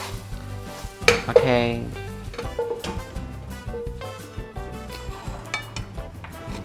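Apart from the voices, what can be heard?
oyster omelette frying in a pan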